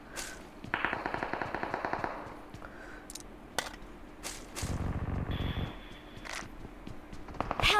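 Automatic gunfire in the mobile game PUBG Mobile, rapid bursts of shots spaced across the clip with single sharp cracks in between, moderately loud with no talk.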